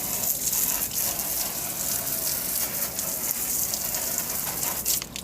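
Water is sprayed onto an air-conditioner filter during washing at home. A continuous hissing gush runs the whole time with no speech over it.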